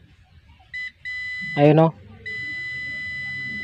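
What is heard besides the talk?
multimeter continuity buzzer on shorted Bluetooth speaker component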